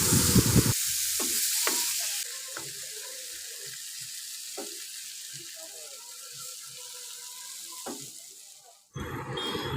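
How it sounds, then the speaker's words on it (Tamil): Paneer cubes frying in oil in a kadai for a restaurant-style kadai paneer, a steady loud sizzle with intermittent scraping stirs and clinks, close up, with a brief drop and a renewed sizzle at the end. "அதே ஆயிலில் இப்போ நம்ம பன்னீரையும் நல்லா வறுத்து எடுக்க போகிறோம்."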